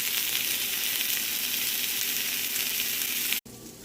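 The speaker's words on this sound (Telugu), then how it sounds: "కడిగి పెట్టుకున్న పుదీనా వేసేసుకొని మంచిగా పచ్చివాసన పోయి ఫ్రై అయ్యేలాగా ఫ్రై చేసుకోవాలి." Mint leaves and green chillies fry in hot oil with a loud, even, continuous sizzle that cuts off abruptly near the end, then resumes more softly.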